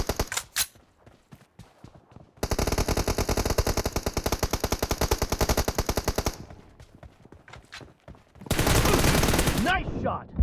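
M416 assault rifle fire in PUBG team deathmatch, loud close automatic bursts of rapid regular shots, the first long and steady and a later one dense, separated by lighter clicks and handling sounds, with a faint voice briefly.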